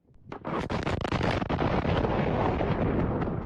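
An ammunition depot blows up during a fire in Greece, a sharp blast followed by a long, loud roaring rumble that keeps going without let-up, with buffeting wind noise on the microphone.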